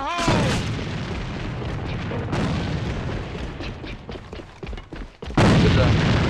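Grenade explosion in a video game, heavy booming blasts and rumbling gunfire filling the scene, with a loud fresh burst near the end and voices talking under the noise.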